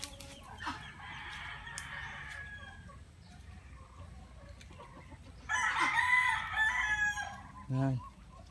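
Native chickens on a rural farm: a rooster crows loudly nearby amid scattered clucking and a short cackle, with quieter bird calls in between against faint outdoor background.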